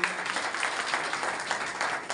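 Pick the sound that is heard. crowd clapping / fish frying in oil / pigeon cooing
crowd clapping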